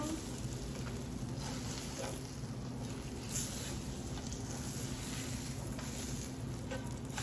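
Egg in a hole, bread with an egg in the centre, frying in a pan, giving a steady, soft sizzle with light crackles throughout and no talking.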